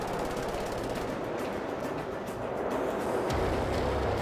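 Rapid gunfire from Wolfenstein hits the player, a dense, continuous rattle of shots with a mechanical rumble underneath, steady and loud throughout.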